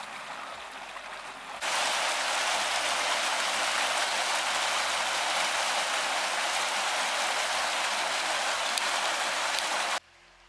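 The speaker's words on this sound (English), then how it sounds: "So the rain's keeping it nice and cool." Steady, dense rain pours down on a John Muir Trail hiking path as a loud, even hiss that starts abruptly and holds for several seconds before cutting off.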